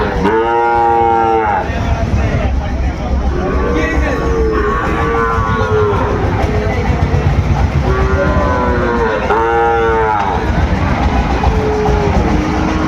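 Sahiwal cattle, bull calves among them, moo repeatedly at a busy livestock market in Dinajpur: several long, loud, close calls rise over a constant crowd and market din.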